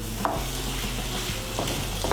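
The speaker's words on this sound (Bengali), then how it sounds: "কুমড়োগুলোকে মশলার সঙ্গে ভালো করে মিশিয়ে নেব" Sweet pumpkin pieces are stirred with spices in a hot pan, with a few soft scraping strokes over a steady low sizzle. No one speaks.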